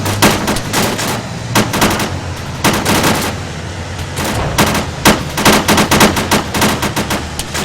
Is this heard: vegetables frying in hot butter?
no